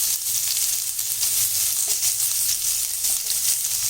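Red chillies and onion sautéing in hot oil with asafoetida, a steady close sizzle with soft stirring and scraping, unbroken by speech.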